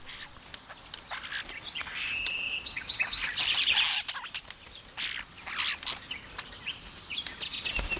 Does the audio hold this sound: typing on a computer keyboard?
no